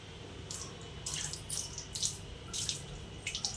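Water runs from a tap while mangoes are washed in a sink, a soft steady flow with intermittent louder splashes and sloshes, fairly quiet and close.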